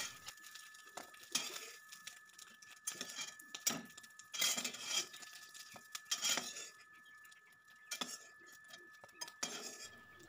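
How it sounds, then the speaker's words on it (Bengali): A metal utensil scrapes and clinks against a pan and bowl as fried cauliflower for a rezala is scooped out, in irregular short bursts separated by quiet pauses. "আমি একটি বাটিতে তুলে নিচ্ছি।"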